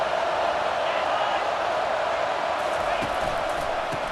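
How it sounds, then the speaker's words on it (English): A college football stadium crowd at a Florida versus Florida State game roars steadily in a broad, sustained wash of cheering and noise, with a commentator talking over it. "This crowd trying to make life miserable for this offense."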